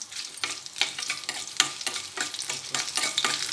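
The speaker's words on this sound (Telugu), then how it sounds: "చూడండి కాలుతుంది తాలింపు." A tempering of small onions and curry leaves frying in hot oil for a ridge gourd stir-fry gives a loud, close sizzle. Rhythmic stirring scrapes cut through it at regular beats, and no one speaks.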